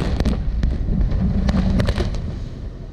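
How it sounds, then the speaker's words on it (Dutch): Explosives blasting apart the western quay wall of the Middensluis lock in Terneuzen, a series of sharp cracking bangs over a low rumbling roar, heard from a distance with wind noise on the microphone. "De westelijke kadewand van de Middensluis werd op 23 maart met explosieven opgeblazen."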